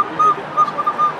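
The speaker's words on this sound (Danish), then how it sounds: "Der var en, der spillede på fløjte." A street musician plays a flute in a city, the thin sustained notes drifting in short phrases over a steady background hum of the street, with no talk.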